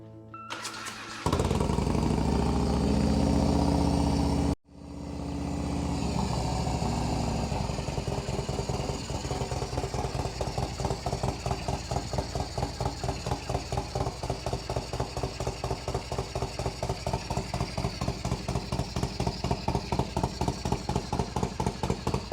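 A motorcycle engine starts and runs, its rough rhythmic firing sitting close and steady after a brief cutout, the beat pulsing evenly without any voices over it.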